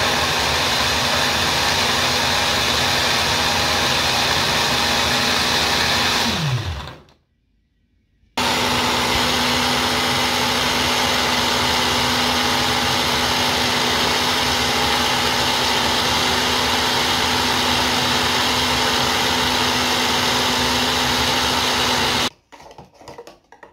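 An electric blender runs loud and steady while blending a vinegar salad dressing, stopping briefly for a second or so before starting again and running until it cuts out near the end.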